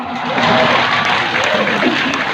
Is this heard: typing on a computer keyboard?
no